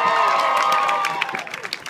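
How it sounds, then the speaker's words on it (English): A crowd at a Renaissance festival cheering and whooping with scattered claps, loud at first with high voices and shouts, then thinning into individual claps near the end. "all these people are going to go crazy with applause"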